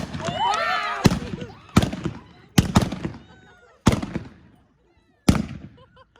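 Blank gunshots at a staged cowboy gunfight show in front of a museum in Bandera, Texas: five sharp outdoor cracks, spaced about a second apart, with shouting voices between them.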